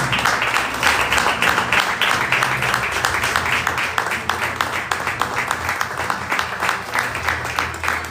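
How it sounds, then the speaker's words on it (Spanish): Church congregation breaking into strong applause during a Spanish-language sermon, steady rapid clapping from many hands sustained throughout, moderately loud with a faint room echo. "Brindale un fuerte aplauso al Señor."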